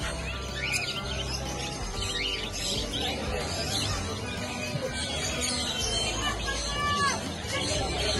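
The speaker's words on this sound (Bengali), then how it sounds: "এখানে ককটেল আছে, পায়রা আছে, বদ্রি, লাভ বার্ড আছে।" Cockatiels, pigeons, budgerigars and lovebirds at a busy pet market chirp and call continuously in a dense chatter, mixed with crowd babble and people talking nearby.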